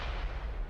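A tank gun fires and its shell strikes an enemy tank in the World of Tanks console game, giving a single heavy, booming low-end blast that fills the short moment, with no talking.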